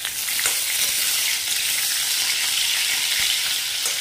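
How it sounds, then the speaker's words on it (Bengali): Fish fries crisp in hot oil, giving a dense, even, loud sizzle that continues without a break, with a couple of faint stirring taps. "মাছগুলো ভেজে নিলাম কড়া করে।"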